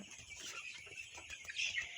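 A chicken recovering from Ranikhet disease gives faint, brief clucks against a quiet, hissy background, with no talking.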